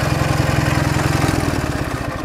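A Ural motorcycle engine runs close by out in the countryside, a steady, rapid thumping pulse that holds evenly throughout with no talking.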